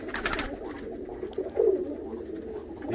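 Tippler pigeons coo softly and close by, a couple of low throaty calls over faint background rustle.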